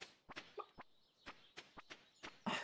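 Chickens on a farm in the video game Stardew Valley give a quiet series of short clucks and clicks in an uneven rhythm, ending with a slightly louder burst.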